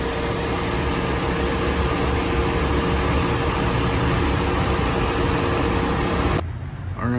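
A Dodge Ram Hemi truck's engine runs steadily and loudly close by with a continuous low rumble and broad hiss, then cuts off abruptly near the end, leaving a brief quiet tail.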